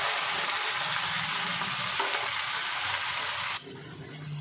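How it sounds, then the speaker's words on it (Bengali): Onion and potato pieces sizzle steadily in a pan with onion paste, garlic, green chilli and cumin paste, a continuous close frying hiss that drops in level near the end, no voices. "পেঁয়াজগুলো বেশ ভাজা ভাজা হয়ে যাক একটু আলুর সাথে।"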